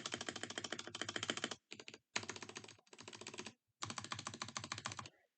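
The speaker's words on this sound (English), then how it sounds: "It makes like a rattly noise" Stabilized keys on an RK G68 keyboard are pressed in quick bursts of clacky strikes with a loose, rattly edge, separated by short pauses, close up with no talking.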